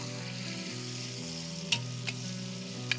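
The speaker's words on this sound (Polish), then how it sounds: "już słychać to takie piękne ogniskowe skwierczonko" Base vegetables sizzling and frying in a pot over a campfire at a castle cookout, a steady close crackling hiss with a few sharp pops, heard alone over a low hum.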